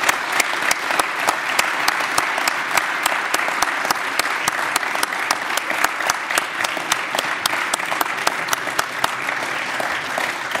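Sustained audience applause filling a lecture hall after a talk on surveillance, secrecy and Edward Snowden, with dense, steady clapping throughout and no speech over it.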